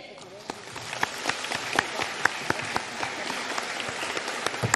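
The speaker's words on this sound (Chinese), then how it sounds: "现在，让我们用最热烈的掌声，恭请尊敬的卢军宏台长为我们慈悲开示" An audience applauds at a Buddhist dharma talk event in San Francisco, a thin patter of scattered claps with a few sharper individual hits, fairly faint and continuous throughout.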